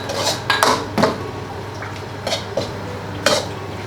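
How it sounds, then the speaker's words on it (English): Duck larb salad with spring onion, coriander and kaffir lime leaves being mixed off the heat, a few close metallic clinks and scrapes of a utensil against the pan, separated by quieter stirring. "Give it a good mix."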